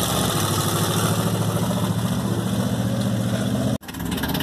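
An engine idles roughly with an uneven, stumbling misfire, a loud continuous close-up chug that cuts out abruptly for an instant before resuming.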